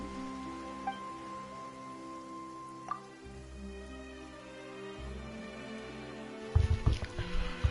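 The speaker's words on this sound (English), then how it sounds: "Why is it raining all of a sudden?" Rain falls suddenly in the video game Genshin Impact, a soft steady patter mixed with quiet background music, ending with a few louder splashes.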